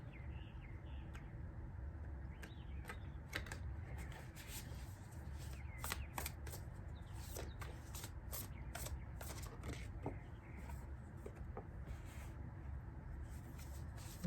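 Light Seers tarot cards are shuffled close up in a quiet room, giving soft repeated riffling and flicking sounds with faint chirps in the background.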